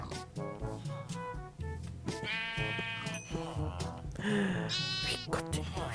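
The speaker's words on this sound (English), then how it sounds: "We got gray sheep!" Several sheep bleating in a Minecraft-style video game, repeated wavering bleats overlapping one another, fairly close, with faint talk and game sounds beneath.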